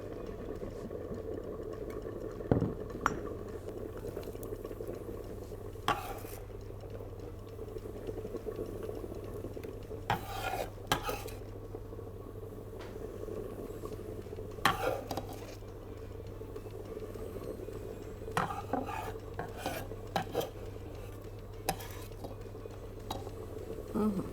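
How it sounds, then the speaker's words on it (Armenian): Chicken wings stirred in a pan give a soft, continuous bubbling sizzle, with scattered clicks and clinks of the utensil against the pan. "Խառնում ենք ու մի թեթև բաց ենք թողում։"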